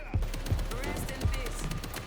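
Gunfire in the zombie shooter World War Z, a handful of sharp shots spaced irregularly over a dense game soundscape, fairly loud and close.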